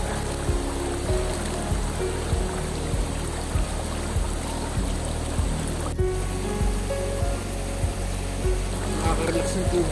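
River water flows steadily at Zamora Falls on the Madlum River, a constant rushing wash with faint rhythmic knocks underneath, heard close and alone.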